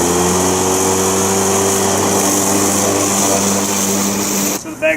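A WORX WG788 19-inch 36-volt cordless battery lawn mower runs with a steady, loud electric motor whine and blade hum that cuts off abruptly near the end.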